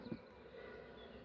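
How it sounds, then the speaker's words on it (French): Bees buzzing at an open, very weak and dwindling honeybee colony, a faint, steady low drone close by with a brief louder burst near the start, no talking. "On a un peu d'abeilles là."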